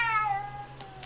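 In the horror video game Ju-On: The Grudge, set in a run-down factory, a single loud cat meow slides downward in pitch, followed by two faint taps.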